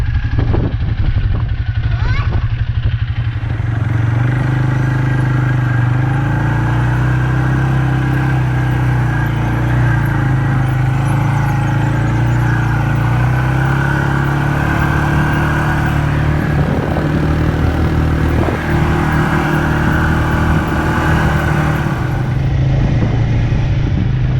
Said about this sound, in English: Guys can hear there's all this wind.